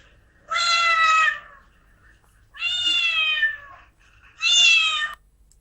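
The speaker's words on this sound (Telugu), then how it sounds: "ఏంటది మ్యావ్ మ్యావ్ అనింది? పిల్లి." A cat meows three times, each call drawn out and clear with short pauses between, close and alone against a quiet background.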